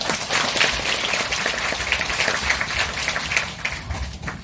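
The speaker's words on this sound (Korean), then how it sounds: "큰 박수 부탁드립니다." Steady, dense applause from a school auditorium audience fills the whole stretch, a continuous rush of many hands clapping without any break.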